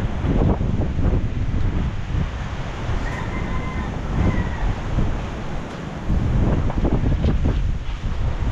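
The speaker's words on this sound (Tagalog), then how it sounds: "Hangin, lumayo ka na." Strong wind roars steadily across the microphone on a boat, with water rushing and splashing underneath, loud and close throughout with no talk.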